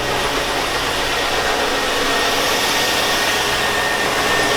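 A cold 2002 Chevy Avalanche with a 5.3L engine, running rich, roars steadily at high revs, a loud sustained broadband drone held without pause.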